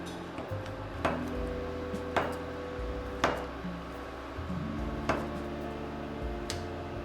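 Knife chopping through a block of Spam on a cutting board, five or six distinct, evenly spaced thuds about a second apart over a low steady kitchen hum, close by.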